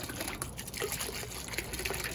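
Water sprays and splashes into a terra cotta pot filter, a continuous hissing gush with small spatters, moderately close and alone.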